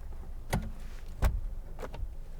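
Electric windows on a 2014 Honda Jazz 1.4 i-VTEC EX CVT run in a few short whirring bursts inside the car, close and distinct, with no talking.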